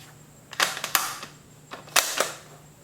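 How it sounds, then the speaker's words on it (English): Bolt of a T/C Compass rifle in .308 Win worked by hand, a quick series of sharp metallic clicks and clacks in two bursts, close and distinct with no talk. "this is a little bit easier getting a bolt in and out than the axis"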